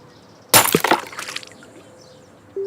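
A phone accidentally dropped hits with a sudden sharp crash and splash, followed by a short burst of breaking and sloshing clatter that fades into quiet trickling, then a faint tone near the end.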